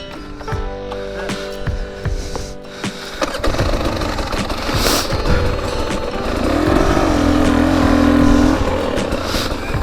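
A 2023 KTM 250 XCW dirt bike engine idles roughly, then revs up higher and louder, its pitch rising and wavering, with clattering mechanical noise close by.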